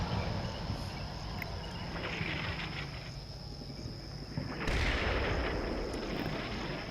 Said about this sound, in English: barrage seems to be on about this line